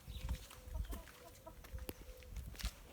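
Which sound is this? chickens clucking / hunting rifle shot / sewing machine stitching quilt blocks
chickens clucking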